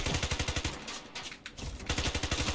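PP90M1 submachine gun firing in Ironsight, loud rapid bursts of automatic fire with a brief pause in the middle before the rattling resumes.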